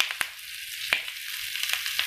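Bottle gourd pieces and curry leaves frying in a pan, a soft hiss with several sharp crackling pops spaced through it, close and moderately quiet, with no talking.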